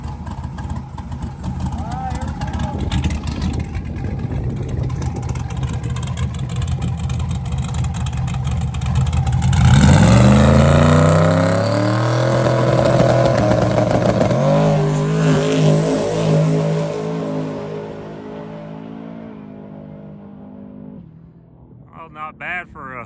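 A no-prep 4x4 NASCAR truck roars through a drag run, its engine loud and near, climbing steadily through the pass with rising pitch before backing off toward the end.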